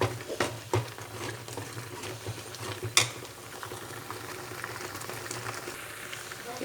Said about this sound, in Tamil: அதுலேருந்து அந்த எண்ணெய் பிரிஞ்சு வரணுங்க அந்த அளவுக்கு நம்ம நல்லா வறுப்போம்